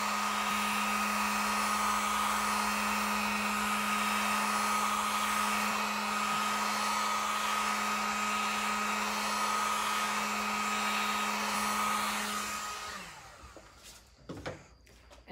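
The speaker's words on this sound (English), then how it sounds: "You're just going to hit that with the dryer so I don't actually smudge it." A hair dryer blows with a steady, close whirring hum for a long stretch, drying stenciled paint on furniture, then switches off, followed by a few faint handling knocks.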